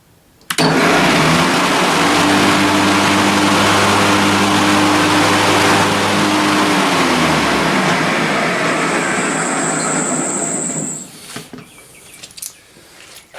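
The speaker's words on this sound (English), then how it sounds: "this switch over here is going to turn the mower deck on" A remote control riding lawn mower's engine runs at a loud, steady drone with the mower deck engaged, humming and whirring for about ten seconds inside a shed before cutting off and rattling to a stop.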